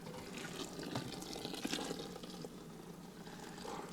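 Mash liquid is poured back over a bed of grain, giving a faint, steady splashing trickle with small uneven bursts and no voices.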